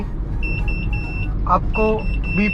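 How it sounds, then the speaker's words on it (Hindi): Repeated electronic warning beeps inside a Hyundai Accent running on CNG as the gas runs out, short tonal chimes in a regular pattern over low road and engine hum, with someone talking in the car. "आपको बीप की आवाज़ सुनाई दे रही होगी।"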